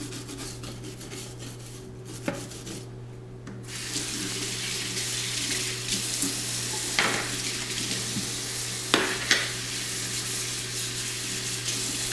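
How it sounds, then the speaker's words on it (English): Water from a kitchen tap runs as a sponge is rinsed out in the sink, a steady close splashing stream with a few louder gushes and sloshes partway through. "she's rinsed out her sponge thoroughly"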